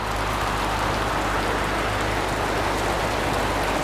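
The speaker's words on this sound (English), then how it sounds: "It's raining pretty heavy." Heavy rain falls steadily outside, a dense, even hiss of drops hitting surfaces with no pauses, close and fairly loud, with no voices.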